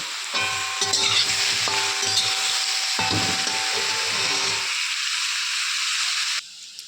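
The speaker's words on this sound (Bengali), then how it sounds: "এখন আমি মাশরুমটা দিয়ে দেবো, মাশরুমটা ভেজে নেব।" Mushrooms frying in hot oil in a pan give a loud, steady sizzle, with scraping stirs of a utensil now and then, before the sizzle abruptly quietens near the end.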